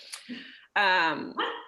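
An old house dog barks indoors during an online meeting, giving a couple of sharp close barks with a brief whine, loud and abrupt, while a person talks around them.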